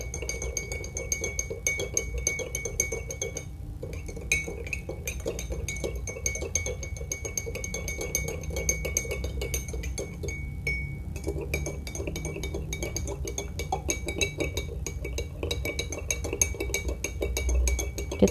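Spoon stirring sugar into a glass of Indian-style watermelon ice drink, a steady run of light glassy clinks and taps that keeps going throughout at moderate volume, with no talk.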